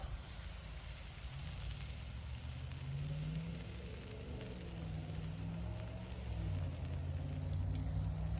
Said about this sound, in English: we're going to sear our steak